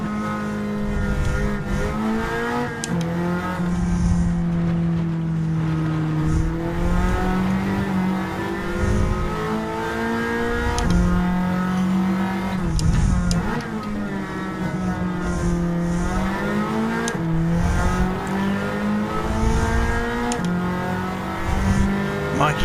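A Nissan Z33 race car in a GTCC championship race in a racing video game revs hard and drones continuously, its pitch rising and dropping through gear shifts, with other engines close around it and occasional commentary beneath.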